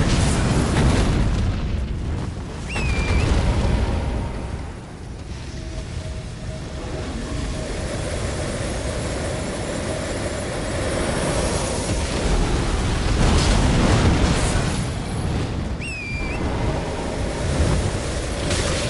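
Repeated fire spell explosions in the video game Elden Ring roar as loud, continuous booming blasts, with short whooshing bursts recurring through a dense, rumbling wash of game noise.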